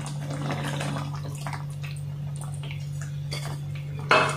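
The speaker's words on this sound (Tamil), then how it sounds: "இதில் நம்ம இப்போ புளி தண்ணி ஆட் பண்ணிக்கலாம்." Tamarind water is poured into simmering onion gravy in a cooking pan, with light watery splashing and faint clinks of the pan over a steady low kitchen hum, and a louder splash near the end.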